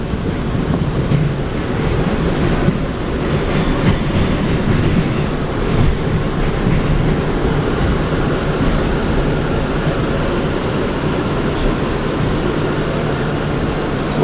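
New York City subway R32 cars on the C line rumbling loudly and continuously close by, with a constant dense roar of wheels on rail and a faint high whine above it.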